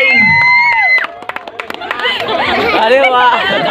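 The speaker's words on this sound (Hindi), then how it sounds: "please come on the stage, जोरों से ताली होनी चाहिए" Audience at a stage event clapping and cheering for a dance performance, a burst of claps followed by a dense crowd roar of applause and chatter, loud and close, with people talking over it.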